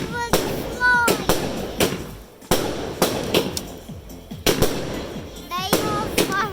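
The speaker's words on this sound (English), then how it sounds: "They're fireworks." Bonfire night fireworks burst in a rapid series of sharp bangs and crackles, some whistling as they go up, with people talking between the explosions.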